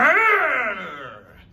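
A person imitates a big animal growl, a single loud, close, drawn-out roaring rumble that starts strong and gradually fades over about a second and a half, heard alone in a storytelling setting.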